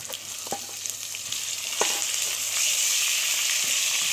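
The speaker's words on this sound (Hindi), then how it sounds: "अब ये कीमा डाल रहे हैं।" Minced beef hits a hot pan with a loud, steady sizzle, a few scraping stirs and clinks cutting through the frying hiss.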